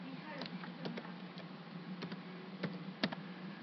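Typing on a computer keyboard to name a new folder, light irregular key clicks tapping at a quiet, close level, without talk.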